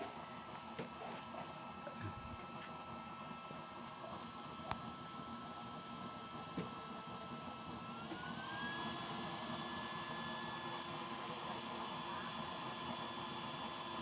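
A steady, loud mechanical whir of a used-oil stove's blower fan running continuously, with a faint rising whine joining partway through; no talking.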